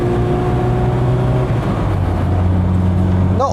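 Steady engine drone from a Lada Riva Estate (VAZ 2104) driving on the road, with low harmonic tones shifting slightly in pitch as it runs, heard from inside the cabin at a constant level with no talking.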